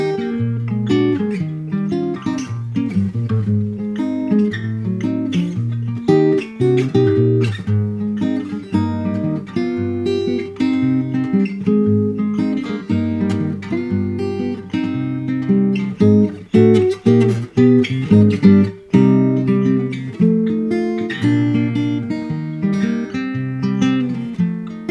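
Fingerstyle acoustic guitar plays the verse of a song, with plucked bass notes under a melody and chords in a steady, bouncy rhythm, close and clear with no talking.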